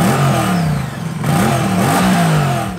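A Moto Guzzi V100 Mandello's 90-degree V-twin engine revs up loud and close, its throttle rising and falling in repeated surges for nearly three seconds.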